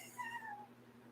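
A cat gives one short, faint meow against a low, steady background hum.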